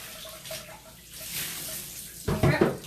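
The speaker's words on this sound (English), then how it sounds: "So use your shampoo water and just pour." Shampoo water poured over a dog during a creative grooming rinse, with faint splashing that builds into a louder, close gush of water near the end, and no talk.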